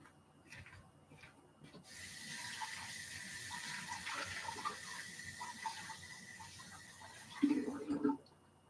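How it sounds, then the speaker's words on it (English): Warm tap water runs steadily into a sink while tarnished silver is rinsed, a continuous moderate gush with some clattering and handling noises, and a voice speaks briefly near the end. "just rinse it in warm water"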